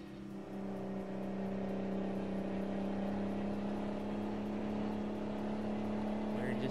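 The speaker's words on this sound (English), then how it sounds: "Got me a Mack truck today, Zombie" A Mack truck engine drones steadily while driving on a highway in American Truck Simulator, a constant low mechanical hum with a faint rising whine, moderately loud and unchanging throughout.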